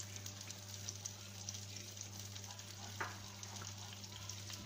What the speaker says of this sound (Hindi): साथ साथ चम्मच हिलाते जाए